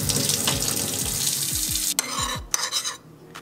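Water poured into a small amount of flaxseed to make a vegan egg, a steady close splashing pour that stops abruptly, followed by a few brief stirring and clinking sounds.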